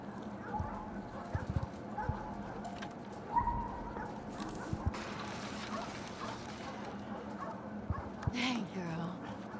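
Dog barking and whimpering in The Last of Us Part II, with short yelps and soft whines over steady game ambience, birds and faint clopping hooves, while voices talk through much of it.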